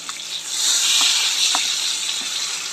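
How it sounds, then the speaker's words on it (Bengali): Fish fries in hot oil with a steady, fairly loud hiss and sizzle, broken by a few light knocks as it is turned in the pan; no one speaks. "মাছটা এখন উল্টিয়ে দেবো।"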